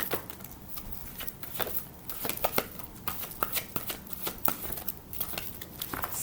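Tarot cards are shuffled by hand in quick, soft riffling bursts and light slaps, close and quiet, with no talking.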